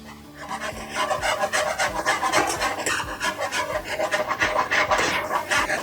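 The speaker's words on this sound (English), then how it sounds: "I'm going to whisk this up real good." A whisk scrapes steadily around a pot as flour is worked into a lasagna sauce, producing a continuous rhythmic rasping and rubbing at close range, with no speech.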